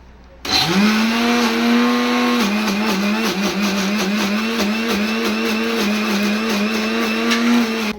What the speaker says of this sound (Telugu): మిక్సీ పట్టుకుంటాను.